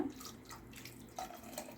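Water splashes and trickles steadily into a pot of dried fish curry, a soft continuous pouring sound heard up close with no talking.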